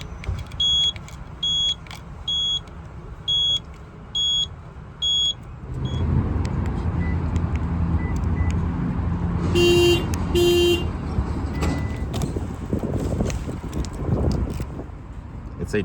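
2017 Toyota Corolla key buttons pressed: a series of short electronic beeps repeating at a steady pace, then the car running with two brief horn chirps close by, with a person speaking in the background.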